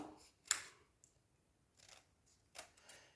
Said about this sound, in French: Je vais découper grosso modo déjà.